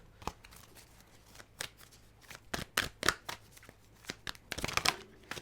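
A deck of tarot cards is shuffled and handled up close, with quick papery riffles and flicks in irregular bursts, growing busier toward the end and heard alone without talk.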